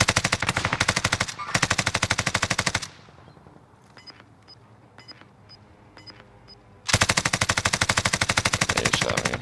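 Rapid automatic gunfire in a shooter game, with dense close bursts of shots that stop for a few seconds, during which faint clicks and metallic ticks are heard, before loud sustained firing resumes.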